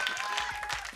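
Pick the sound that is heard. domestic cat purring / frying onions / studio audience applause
studio audience applause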